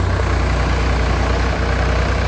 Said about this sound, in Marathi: तर तिथे ट्रॅक्टरची वाही करायला घेतली